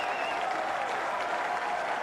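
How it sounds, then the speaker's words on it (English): Crowd at a 1998/99 NTFL men's Australian rules football match applauds player Ross Napoli, a steady, fairly distant wash of clapping from the stands, with no single claps standing out. "There's some great applause there for Ross Napoli"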